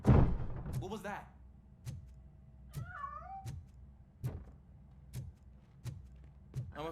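A cat meows twice in the video game RoboCop: Rogue City, short and fairly faint, amid regular heavy metallic footsteps and thuds that repeat about every second.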